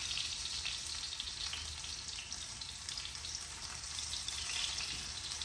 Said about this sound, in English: let's see if it doesn't sizzle.